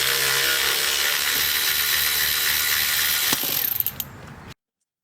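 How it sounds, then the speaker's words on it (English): A ratchet with a T50 socket loosens a castle nut during a wheel bearing replacement, giving a steady dense mechanical clatter that ends in a few distinct clicks before stopping. "you'll have to grab it on one side with the T50, break it loose"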